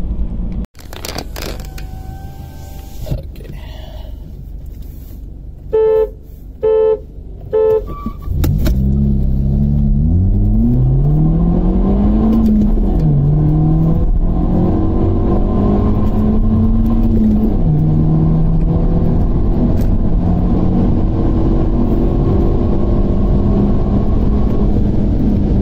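Three BMWs in a stage-1 tuned race, a 420D, a 114i and a 116D, start with brief clicks, then engines roar loud and close, rising through gear changes in sweeping pitch climbs with steady rumble to the end.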